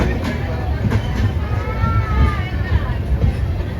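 The 12857 Tamralipta Express rolls toward Digha past a bypass level crossing, a loud continuous rumble with faint wheel clatter that fills the whole stretch, without clear speech.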